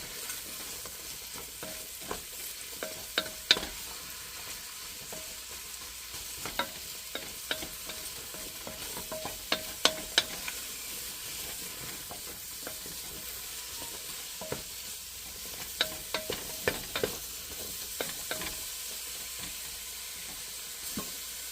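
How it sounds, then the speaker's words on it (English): Baby bella mushrooms are stirred in a hot pan to coat them, with a continuous soft sizzle broken by repeated scraping clicks of a utensil against the pan, close up and with no voices. "I'm going to just stir them up and get them all coated really good"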